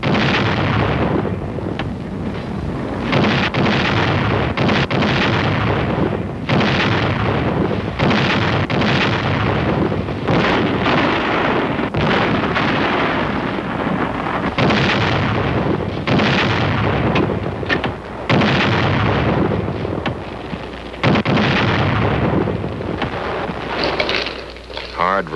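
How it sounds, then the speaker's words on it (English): Artillery guns of the Korean War era fire in a rough, continuous barrage, heavy booming blasts rolling one after another at close range with a dense, loud rumble and no clear gaps. "Number 1 gun, fire!"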